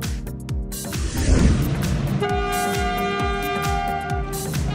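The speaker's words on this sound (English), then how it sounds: "Container train." A container train passing on rails, a loud, steady rumble with rhythmic clacks of wheels over rail joints and a sustained metallic screech or horn-like tone partway through, close by, with no voices.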